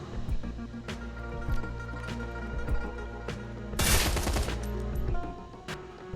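Gunfire in the game Shadowrun: Hong Kong, with rapid repeated shots over game music and one loud burst of fire in the middle.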